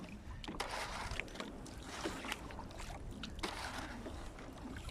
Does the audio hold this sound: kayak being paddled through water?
yes